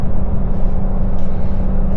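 A 2026 RAM 2500 with the HO Cummins diesel pulls a trailer up a grade, its engine holding a steady, loud low rumble with constant road and drivetrain drone throughout.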